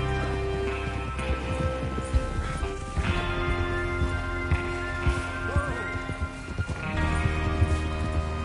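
Horses galloping in the video game Red Dead Redemption 2, a busy clip-clop of hooves running on through the whole stretch amid game music and ambience, with occasional voices.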